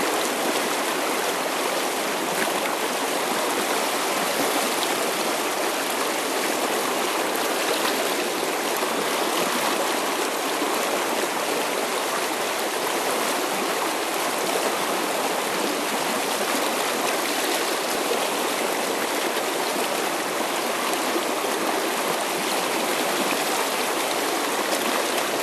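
A dam-controlled tailrace river on an Adirondack trout stream rushes in a steady, loud wash of flowing water that holds an even level throughout with no voices.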